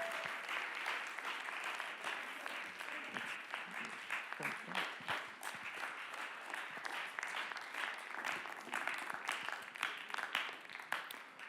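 A church youth worship audience gives a pastor a warm welcome with sustained clapping, a dense patter of many hands that rises and falls in waves for several seconds, heard from some distance in the hall.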